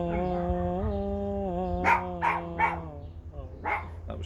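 Dogs bark indoors in a home during a singalong, several short bursts in a quick series over a sustained droning, held tone, moderately loud and near.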